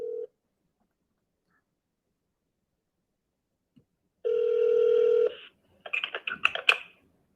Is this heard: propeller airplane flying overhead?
no